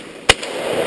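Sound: firework being shot off

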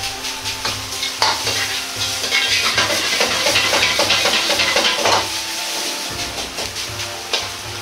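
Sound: stir-frying rice in a wok

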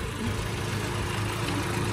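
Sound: 2006 Geely manual car engine idling

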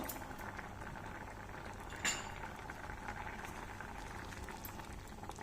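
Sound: stirring rice flour into boiling sweet potato jaggery payasam

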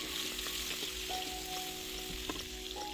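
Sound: cucumber stir-frying in oil

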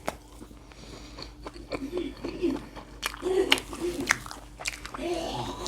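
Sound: eating gwamegi, dried Korean fish, chewing

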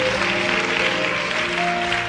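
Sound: audience applause

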